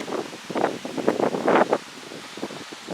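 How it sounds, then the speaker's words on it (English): Gusty wind on a windy day in Halifax buffets the microphone in uneven, rumbling bursts that swell and fade, loud and close, with no talking. "Oh, there's the wind. It's a windy day in Halifax."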